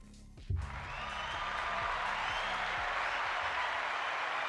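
Steady applause from a crowd, beginning with a sharp onset and then holding as a dense, continuous wash of clapping.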